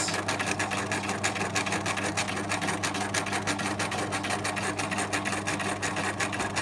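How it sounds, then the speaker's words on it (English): Sewing machine stitching slowly down a pencil case seam to the bottom of the seam allowance, a steady close mechanical whir with an even rapid needle rhythm throughout. "sew very slowly while you're doing this. And once again, we're going to go all the way to the bottom of the seam allowance."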